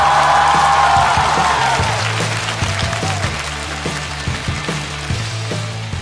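A comedy show audience applauds as comedians come on stage, a loud burst of clapping that fades into background music with a steady mechanical beat.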